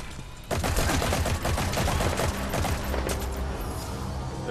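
Sustained automatic gunfire in Metal Gear Solid V: The Phantom Pain, a dense, loud barrage of rapid shots starting after a brief quieter lead-in and continuing without letup to the end.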